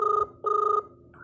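A telephone rings during a call, giving two loud, close electronic trill bursts with a short gap between them and the start of a third at the end, with no talking.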